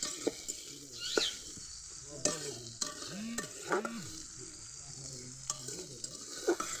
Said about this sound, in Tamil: இப்போ இதையுமே நல்லா வதக்கிக்கலாம்